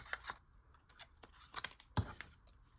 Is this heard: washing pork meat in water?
no